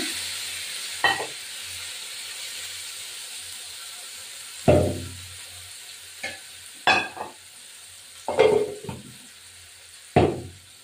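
Chicken pieces fry in a pan for chicken soup, with sharp bursts of sizzling and spatula scrapes recurring every second or two over a quiet, faintly hissing background.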